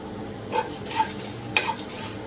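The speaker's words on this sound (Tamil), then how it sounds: "நல்லா வாசனை வர வரைக்கும் வறுத்துக்கோங்க" Dried chillies, cloves, cinnamon and cardamom are dry-roasted in a pan for a mutton dish, with soft stirring scrapes and a few light clinks of a spatula over a faint, low background hiss.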